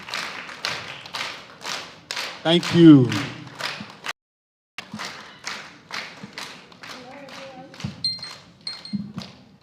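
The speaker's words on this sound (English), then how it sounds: "Keep clapping till she comes on stage." Audience members clap at a Nigerian girls' parliament session, giving steady rhythmic claps that stop briefly and then resume while someone speaks over them through a microphone.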